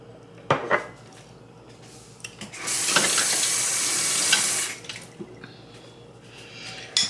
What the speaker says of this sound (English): I'm washing a spoon, guys.